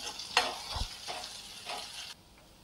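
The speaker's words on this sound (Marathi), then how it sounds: "आता आपण त्याच्यामध्ये ही हिरवी मिरची, कोथिंबीर आणि कढीपत्ता तिन्ही थोडंसं तेलामध्ये याला होऊ देऊ." Green chilies, coriander and curry leaves frying in a little oil in a pan, a soft low sizzle with a couple of brief stirring scrapes, quiet and close, with no voices.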